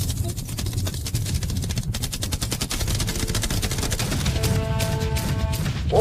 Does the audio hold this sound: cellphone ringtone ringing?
no